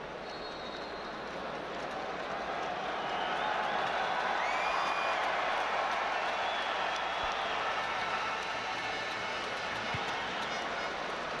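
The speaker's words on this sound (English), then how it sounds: "Big crowd in the Allianz Arena" A large stadium crowd fills the Allianz Arena before kickoff of a Barcelona vs Internacional Audi Cup 2011 match, a continuous distant roar that swells after the first few seconds and then holds steady.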